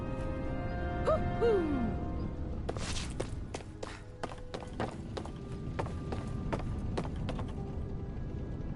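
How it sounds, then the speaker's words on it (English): A low owl hoot sounds early in the fantasy RPG Tales of Arise on PS5, over steady ambient game music, followed by a run of regular footsteps crunching nearby. "That's an unusual bird. It's an owl."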